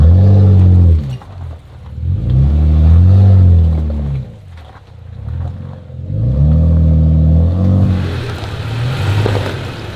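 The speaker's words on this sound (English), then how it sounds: "We put some distance between us and the convoy of Jeeps that entered after us." Jeep 4x4 engine labouring over a stony, weather-beaten mountain pass on Eagle Mountain, loud and close, rising and falling in revving surges with rattling clatter between, no voices.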